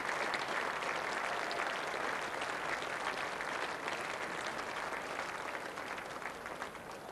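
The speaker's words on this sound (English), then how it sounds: "Applause for the 50 partnership." A cricket crowd at a South Africa versus England test match applauds a 50 partnership, with dense, sustained clapping that eases gradually toward the end.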